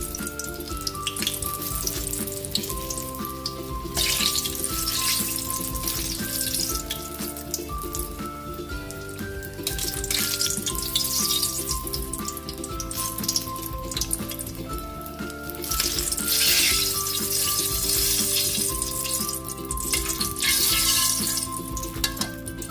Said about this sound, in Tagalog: Magpiprito na po tayo ng ating isdang pampano